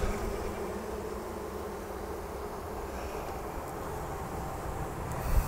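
Dense, continuous buzzing of a queenless honeybee colony, a steady droning hum close by with no pauses.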